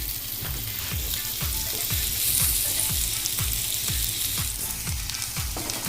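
Onions sizzle steadily in a pan of hot oil, cooked until lightly browned for Bengali Katla Bhapa, with regular scraping stirs throughout and no talk.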